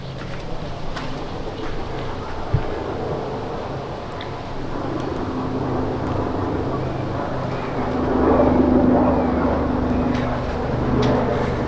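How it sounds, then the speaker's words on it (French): A helicopter drones overhead above Montreal's Botanical Garden, a steady low engine rumble that swells slightly louder toward the end. "Je sais pas s'il y a un hélicoptère que j'entends au-dessus de ma tête"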